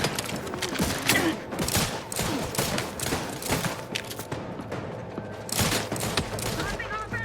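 Rapid gunfire in The Outer Worlds 2 video game, with dense bursts of shots and thuds in sustained volleys, loud and close, while voices shout through the combat.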